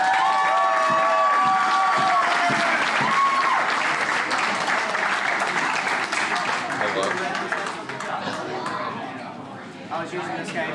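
Crowd applause and cheering for young martial arts students at an MMA club session, loud and sustained claps with some shouting voices, slowly thinning toward the end.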